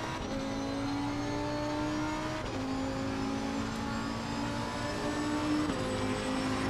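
Race car engine held under part throttle in Assetto Corsa Competizione, a steady near drone at moderate pitch that dips with two brief gear changes and climbs gently, with no talk over it.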